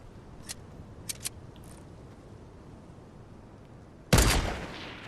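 Gunfire in Fortnite: a few faint, distant single shots early on, then a loud, close shot with a short decaying tail near the end.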